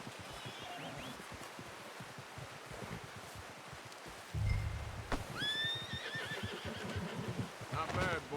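A horse in the Red Dead Redemption 2 video game gives a loud whinny in an outdoor scene with wind and rustling, after steady hoof and movement noise and a low thud.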